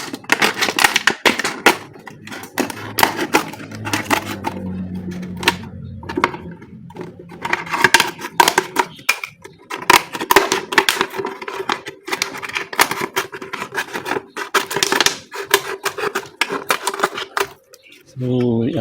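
A plastic bottle being cut, heard as a long run of close, irregular crunching and snipping bursts with brief pauses, while a voice talks over parts of it.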